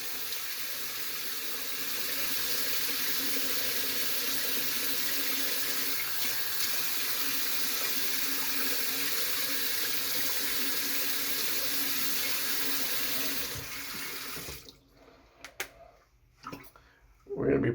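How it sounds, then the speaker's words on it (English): A bathroom tap runs warm water to wet a beard before styling, a steady, close hiss of flowing water for about fourteen seconds before it shuts off, followed by a few brief handling sounds. "some warm water, wet your beard if you haven't already done so"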